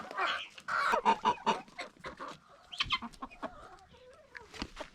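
Backyard chickens cluck close by in quick, busy bursts that overlap and repeat steadily, with no talking over them.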